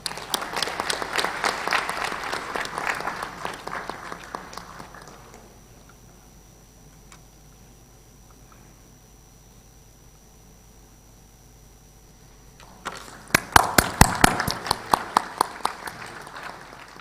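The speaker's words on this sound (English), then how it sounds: "Please have a huge round of applause." Audience applause at an arbitration conference, a crowd clapping that fades out after about five seconds, a quiet stretch, then a fresh burst of loud, close claps near the end.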